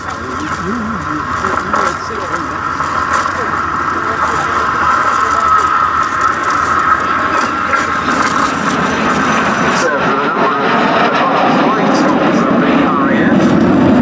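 A 1949 T7 aircraft flies at the Duxford airshow, a steady loud engine drone that runs the whole time with a slight shift in tone partway through, under a commentator talking over a PA.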